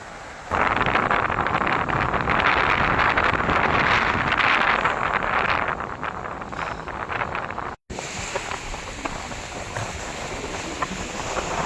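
Heavy wind and rough sea waves buffet a fishing boat offshore, a dense continuous roar that surges loudly for several seconds, cuts out briefly, then resumes as a steady rush without voices.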